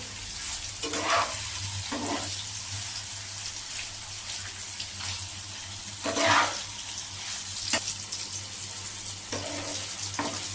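Paneer pieces fry gently in oil with a little turmeric, producing a steady close hiss broken by several short bursts of stirring and scraping in the pan.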